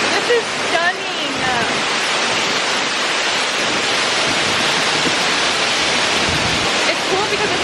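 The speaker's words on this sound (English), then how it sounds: "It's cool because it's a waterfall." A waterfall with a boulder wedged in the middle of it: a loud, steady, broadband rush of falling water fills the whole stretch without letting up, and a voice speaks briefly over it near the start.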